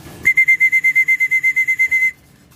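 A close, loud human whistle calling birds at a loft, repeated as a quick train of evenly spaced short pulses, lasting about two seconds before stopping.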